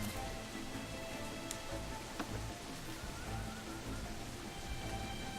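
Steady pouring rain in Assassin's Creed: Freedom Cry, a soft continuous hiss of falling water with a couple of faint sharp ticks, fairly quiet and unbroken throughout.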